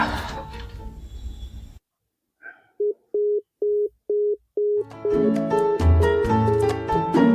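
A telephone call failing to connect, giving a run of five or six short, evenly spaced busy-tone beeps after a brief silence, with a music score before and after.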